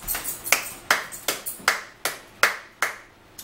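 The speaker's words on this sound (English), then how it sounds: "I gotta give myself a hand clap." Nine sharp hand claps in an uneven rhythm ring out close and fairly crisp, each with a short decay, alone without talk.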